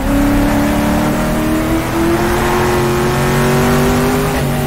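Race car engine in the GTR2 sim at the 1966 Targa Florio, droning loud and steady with rising and falling harmonics as the car drives a clean road, no voices.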